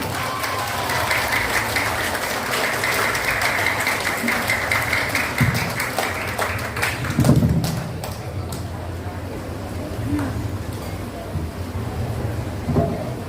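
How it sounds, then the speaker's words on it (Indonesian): Audience applause in a school hall at the opening of a mathematics olympiad semifinal, a thick patter of clapping that carries for several seconds and then thins out to scattered claps, with a few voice sounds and knocks. "Kita berikan tepuk tangan satu kali lagi"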